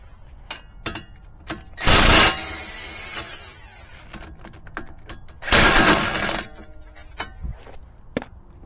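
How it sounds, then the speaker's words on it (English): An impact wrench hammers loose a 19 mm brake hardware bolt on a car, two loud rattling bursts of about a second each, separated by softer clicks and handling noises nearby. "We're gonna use the impact, get this sucker off."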